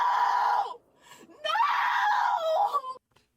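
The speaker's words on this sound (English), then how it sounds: "All that screaming shit ain't gonna help" A parent screams in anguish as police confiscate belongings at a house, two long, loud, strained wails separated by a short gasping pause.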